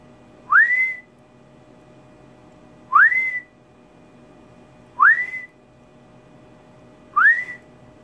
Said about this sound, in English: And you'll see every time I whistle